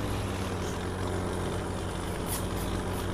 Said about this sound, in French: Attends, je vais juste poser mon tracteur, je vais couper le moteur parce qu'il gueule